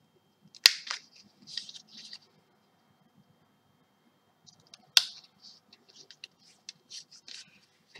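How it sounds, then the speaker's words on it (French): Scissors trim the corners of folded paper at an angle for a scrapbook photo album: two sharp, close snips about four seconds apart, each followed by light scratchy paper rustling in an otherwise quiet room. "avec une paire de ciseaux, on va venir ôter en biseau les coins."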